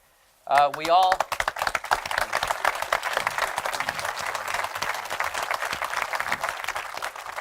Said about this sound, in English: I don't even have to say anything, and he gets an applause.